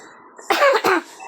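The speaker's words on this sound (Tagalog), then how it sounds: "Kasi ako ubo." A single person gives two quick, harsh coughs close to the microphone, one right after the other, with nothing else heard around them.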